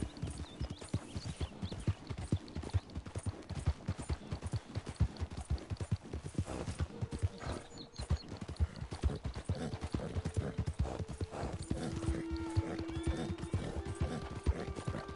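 Rapid, continuous hoofbeats of a horse in Red Dead Redemption 2 clip-clop at a steady gallop, loud and close, with faint tonal sounds and a brief neigh-like note underneath.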